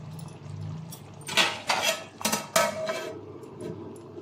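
A plate set over a pot of biryani after stirring, giving several quick clinks and knocks of metal and ceramic, close by in a quiet kitchen.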